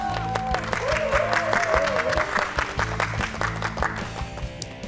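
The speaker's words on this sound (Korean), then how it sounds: "여러분 큰 박수로 맞아주십시오" An audience at a televised regional lecture event applauds to welcome a speaker, with steady clapping running under rhythmic background music and a melodic line, holding fairly even throughout.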